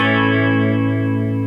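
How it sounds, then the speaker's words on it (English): A sustained electric guitar chord rings out through a shimmering chorus effect, thick and slightly wavering, loud and close with no voices. "Yeah, that's chorus."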